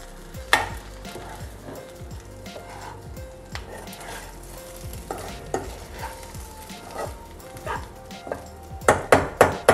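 Stuffed brinjal curry with ground tempering sizzles gently in a pan as a spoon stirs and scrapes through it, soft crackling under intermittent clinks, ending with a few sharper knocks.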